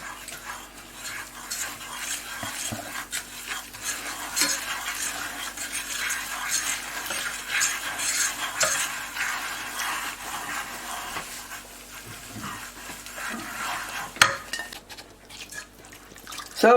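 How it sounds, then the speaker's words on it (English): Bechamel sauce being stirred in a pan with a utensil for lasagne, steady scraping and swishing strokes with faint bubbling and occasional clinks, fairly quiet and close with no talking. "So we're making our bechamel sauce."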